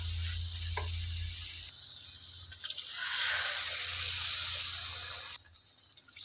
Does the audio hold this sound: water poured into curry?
yes